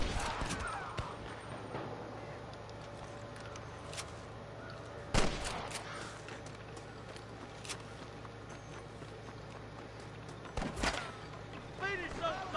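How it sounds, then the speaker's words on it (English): Gunfire crackles in a Red Dead Redemption shootout: a few sharp, scattered shots near the middle and toward the end, set against low ambient game sound and occasional movement. "I can hear more gunshots."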